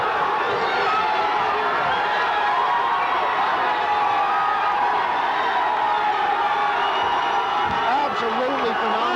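A fight crowd roaring after a knockdown: a dense, sustained wall of cheering and shouting holds at full volume without a break.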